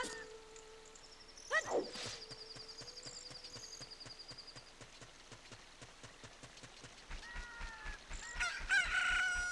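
In The Legend of Zelda: Ocarina of Time, a rooster crows once at morning, a loud rising cock-a-doodle-doo, followed by steady rain-like patter and scattered clucks and chimes from the game.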